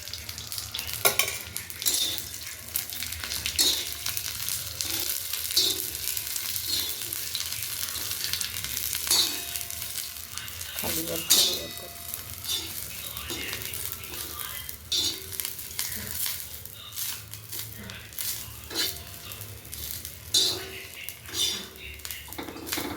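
A little oil sizzles in a hot tawa while a spicy brinjal dish cooks, giving a steady crackling fry with stirring scrapes and utensil clinks against the pan and a voice heard now and then.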